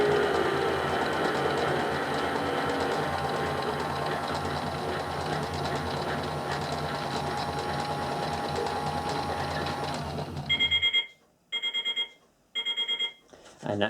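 A small motorized Miele Novotronic toy washing machine whirs and rattles continuously at speed, then cuts off into a few short electronic beeps.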